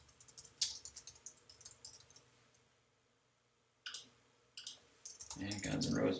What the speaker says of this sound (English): And having a hard time typing.